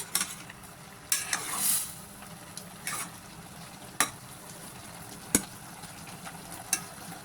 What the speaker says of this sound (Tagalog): Haluin natin ulit guys para matanggal yung mga sa ilalim.